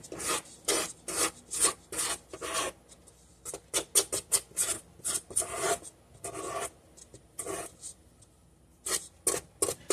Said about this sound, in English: I'm going to remove my bowl here after I scrape down the sides